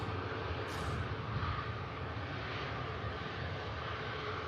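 A Scandinavian airliner inbound from Oslo approaches Manchester Airport, its jet engines a steady, broad roar that holds at a constant loudness throughout with no voices over it.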